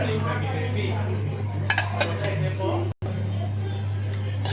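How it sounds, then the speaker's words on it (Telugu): A metal lid clanks onto a cooking pot of fish curry, a few sharp clinks of metal against metal near the mic, over a steady low hum while someone talks. "ఇప్పుడు కొంచెం ఉడికేదాకా మూత పెట్టుకుందాం."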